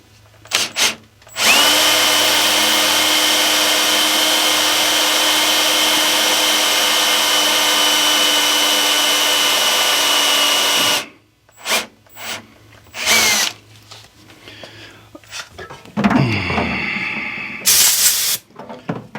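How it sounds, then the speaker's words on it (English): Power drill boring a set screw hole in a Corvair cam gear: one long, loud, steady whine for about nine seconds, then short bursts and clatter of handling, close up. "we can get over here and drill"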